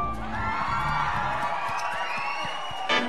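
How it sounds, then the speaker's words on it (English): Applause and cheers from an audience at a school Battle of the Bands, a steady dense roar of clapping and shouts filling the space with a brief louder burst near the end. "a massive round of applause"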